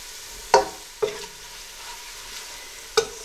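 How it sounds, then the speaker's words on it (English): Whole spices frying in a pot of oil for pea pilau, heard as a soft, faint sizzle under a few sharp clinks and scrapes of a spoon stirring against the pot. "it's important to fry those spices at this point"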